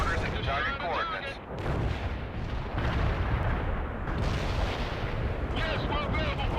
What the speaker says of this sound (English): Zulu 9er firing mortars into target coordinates.